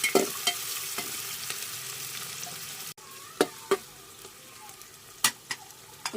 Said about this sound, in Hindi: भूज लिया प्याज।